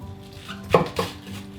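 A knife slicing a thick cabbage steak in half on a roasting pan; two sharp crunching cuts close together, near and clear, with quiet background.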